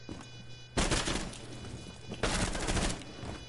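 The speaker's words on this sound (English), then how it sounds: "Shoot through the wall. Wall bang." Two loud bursts of rapid automatic gunfire in a first-person shooter game, fired through a wall, each lasting about a second with no talk.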